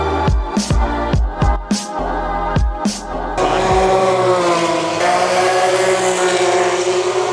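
Modern Formula 1 cars race at Melbourne: four or five loud, sharp pass-bys whine past in quick succession with falling pitch, followed by a sustained, overlapping engine drone from more cars circulating nearby.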